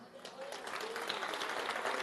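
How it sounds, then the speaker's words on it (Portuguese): Church congregation applauding during a sermon, quiet, diffuse clapping that grows slightly denser over the span, heard from a distance with faint voices mixed in. "Aplauda o Senhor."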